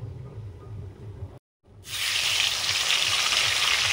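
Whole garam masala, cardamom and cinnamon hit hot oil for a pomfret curry, bursting into a loud, steady sizzle after a brief silence, preceded by faint low kitchen sounds.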